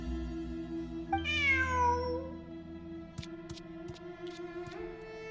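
A video game cat gives a clear, rising-then-falling meow over a steady electronic music bed with tonal drones, followed by a few faint clicks and chimes.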